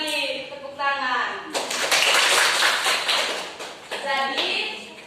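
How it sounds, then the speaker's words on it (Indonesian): Schoolchildren in an elementary science class clap their hands together in a short burst of lively group clapping, with a teacher's voice and children's speech before and after. "Tepuk tangan."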